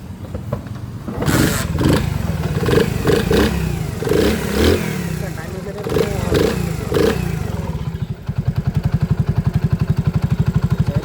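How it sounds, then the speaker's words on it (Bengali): A Honda CD 80 motorcycle engine, close and loud, revving in repeated surges, then settling into a fast, even idle putter near the end. "ইঞ্জিনে একবারে স্মুথ সাউন্ড। আমি একটু আপনাদের যদি শোনাই ভিডিও"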